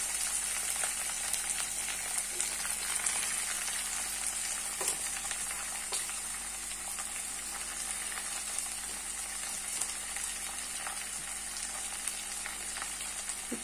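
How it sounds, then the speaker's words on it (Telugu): Mint, coriander and curry leaves fry in hot oil for a Telugu pudina kothimeera pickle, a steady close sizzle with small crackles and occasional stirring taps throughout. "ఇప్పుడు దీన్ని కలుపుతూ మనం వేయించుకుందామండి."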